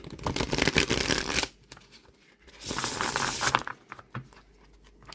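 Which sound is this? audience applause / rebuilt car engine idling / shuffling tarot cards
shuffling tarot cards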